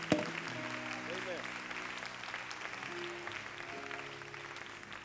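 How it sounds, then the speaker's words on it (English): A church congregation claps along together during a worship service, a steady wash of applause lasting several seconds while music plays beneath and a voice speaks over it. "Would you clap your hands to the Lord one more time"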